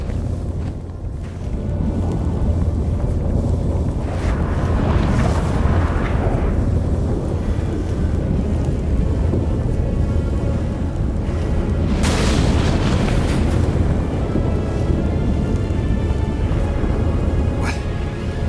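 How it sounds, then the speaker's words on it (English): A storm rages in The Witcher 3, with a dense, steady roar of wind and deep rumbling booms that swell at moments, loud and continuous with no talk. "That a storm?"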